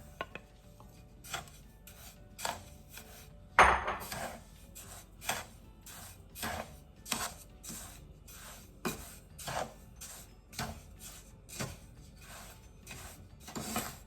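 Four cups of semolina (rava) dry-roasting in a pan, a steady run of scraping and rubbing strokes from a spatula repeating every half second or so, with one louder clatter near the start and no voices.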